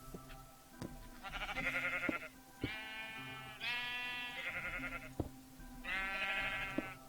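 Sheep in the Minecraft modpack Industrial Rotation bleat in four drawn-out calls, one after another, with short gaps and faint ticking game sounds underneath.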